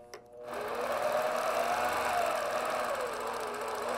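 A longarm quilting machine stitches along a ruler in the ditch of a quilt block, starting with a brief click then settling into a steady, close, high-pitched whirring hum with a rapid mechanical stitching buzz.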